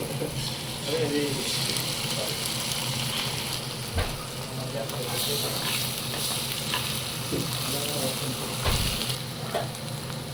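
Eggs go into pasta frying in a pan, giving a loud, continuous close-up sizzle with stirring scrapes and a couple of heavier knocks against the pan.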